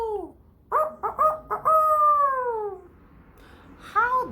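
First-grade children's voices imitate a rooster crowing, with a few short rising calls followed by a long drawn-out cock-a-doodle-doo and another brief crow at the end.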